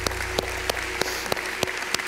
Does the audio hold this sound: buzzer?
no